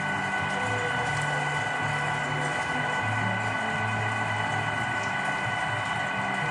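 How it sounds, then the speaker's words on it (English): A meat grinder churns venison mixed with soft trim fat, a loud continuous mechanical drone with a rhythmic grinding pulse running steadily throughout, no voices. "We're going to grind it naked like this"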